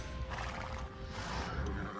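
A horse neighs in the strategy video game Age of Empires II: Definitive Edition, a whinny over continuous game ambience and clip-clop hooves, with steady background sound throughout.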